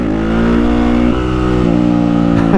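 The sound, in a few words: Honda CRF450R supermoto engine idling high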